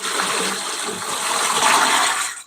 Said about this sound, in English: let's put all the water that's left in those pail